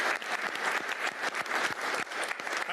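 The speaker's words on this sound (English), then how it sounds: "Let's give him a round of applause." Steady applause from a crowd, dense clapping sustained throughout at moderate volume.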